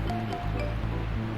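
A waterfall in the Chibi-Robo GameCube game gives a steady, soft rushing wash of falling water, continuous and even, with a faint low musical drone running underneath.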